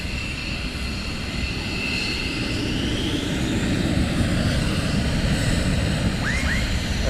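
F-15E jet engines idling and running up at RAF Lakenheath before departure, a steady loud broadband roar that swells slightly toward the end, heard alone without voices.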